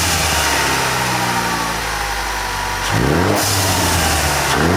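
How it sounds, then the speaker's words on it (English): A Ford EcoBoost Mustang engine with a large intercooler idles with a steady low rumble, then revs up sharply, climbing in pitch before settling, loud and close. "I'm gonna go ahead and start the car"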